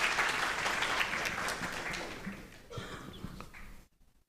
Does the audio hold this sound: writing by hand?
no